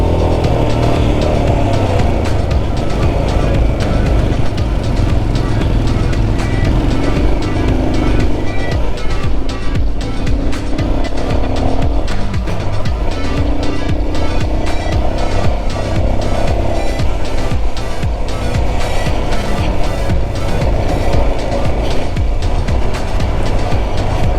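A motorcycle climbs toward Umling La in Ladakh on a snowy high-altitude road, its engine laboring in a loud, continuous rumble with rapid mechanical pulsing and wind noise throughout.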